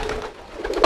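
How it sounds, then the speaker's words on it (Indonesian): A homing pigeon coos in courtship, a soft, brief, low burbling call close by, with a slightly louder note at the very end. "ini teman-teman bisa lihat tuh giringnya merpati pos saya nih"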